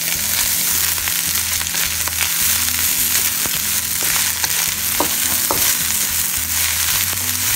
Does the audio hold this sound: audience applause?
no